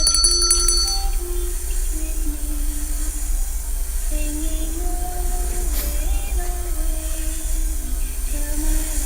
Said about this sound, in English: Yet, when I ring the bell again